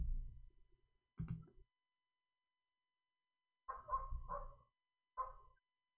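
Dogs bark in the background, a few short scattered bursts separated by silence, moderately distant and fairly faint, with no one talking.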